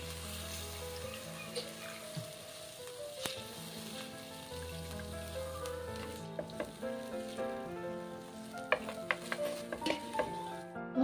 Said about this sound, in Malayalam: നമുക്കിതിലേക്ക് തേങ്ങയുടെ 2-ാം പാല്, 1-ാം പാലല്ല കേട്ടോ, 2-ാം പാല് കുറച്ച് ഒഴിച്ചു കൊടുക്കാം